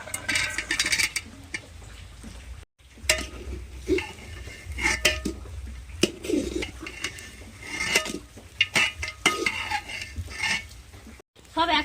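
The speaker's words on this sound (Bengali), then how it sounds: "এবারে সোয়াবিন আর আলু ভাজাটা দিয়ে দিচ্ছি" Soybean and fried potato tipped into khichuri in a cooking pot, with close clanks and scrapes of a spoon on metal in irregular bursts over a soft sizzle, no talking.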